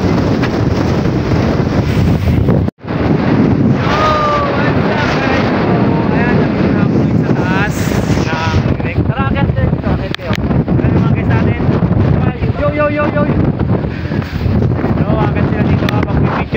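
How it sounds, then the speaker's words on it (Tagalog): Strong, steady wind roars across the microphone in continuous heavy gusts at a mountain view deck in Dingalan, Aurora, with voices talking faintly underneath. "Napakalakas na hangin!"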